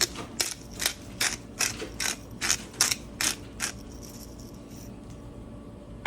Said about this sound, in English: then some fresh cracked black pepper